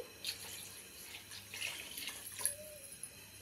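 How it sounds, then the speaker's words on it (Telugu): Water is poured into a cooking pot for chicken sherva, a faint continuous splashing stream with light trickles, heard alone without talk. "ఒకటి ముక్కాలు లీటర్ నీళ్లు పోసుకుంటున్నానండి."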